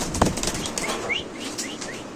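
Restless Mundian pigeons at a pigeon seller's, with one short sharp burst of flapping wings near the start followed by faint chirps and soft shuffling.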